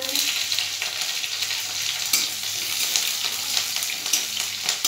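Garlic, ginger and chilli frying in a pan for Maggi noodles, giving a steady, close, dense sizzle that runs the whole time with small crackles and no talk.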